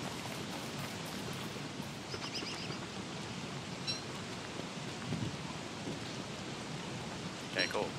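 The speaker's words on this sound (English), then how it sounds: "It's raining again." Steady rain with faint distant thunder in the survival video game Don't Starve (Reign of Giants), a continuous soft hiss filling the scene with a few small sharp ticks.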